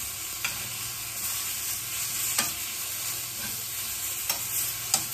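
Chorizo and eggs stirred and frying in a pan, a steady sizzle broken by a few sharp scrapes of the utensil at irregular intervals, close and alone.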